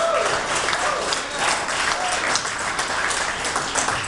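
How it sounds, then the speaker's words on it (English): Sustained applause from an audience at the New York reveal of the Fisker Atlantic car in 2012, a dense steady wash of clapping that holds at a loud, even level with no voices above it. "please let's give everyone on the Fisker team a round of applause"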